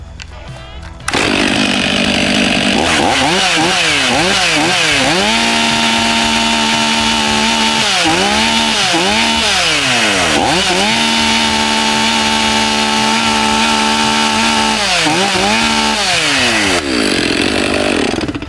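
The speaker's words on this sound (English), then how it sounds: "exactly how loud the stock saw is on the 500i" A Stihl MS 500i chainsaw with its stock exhaust starts up and runs loud and close, idling then repeatedly revving up and down in surging cycles for over fifteen seconds before dropping back.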